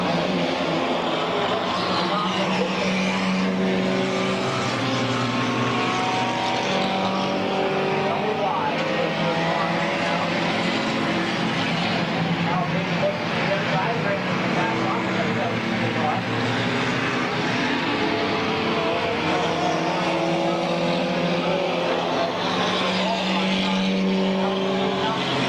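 Race cars at Midvale Speedway in a four-car, four-lap dash, engines roaring continuously and loudly as the pack circles, with crowd noise and an announcer's voice mixed in.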